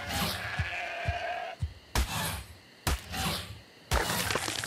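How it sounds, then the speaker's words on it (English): Sheep bleat in the video game Ark, a wavering nasal call at first, followed by several sharp, loud thuds and cracks at roughly one-second intervals, with no speech over them. "I see a rainbow of sheep."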